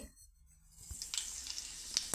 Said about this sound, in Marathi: मोहरी बारीक असल्यामुळे छान अशी लगेच तडतडते